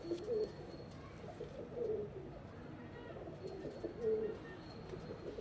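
Pigeons of prized Delhi flying breeds such as Madrasi and Nevla coo in low, rolling bursts, several calls overlapping at moderate distance against a steady outdoor background.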